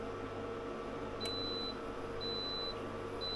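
A solar charge controller's high-voltage input alarm sounds in three separate high-pitched beeps, each about half a second long and evenly spaced, over a steady low room hum.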